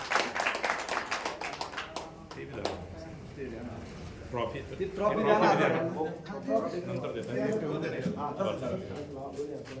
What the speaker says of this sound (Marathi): टाळ्या वाजवून या ठिकाणी स्वागत करावं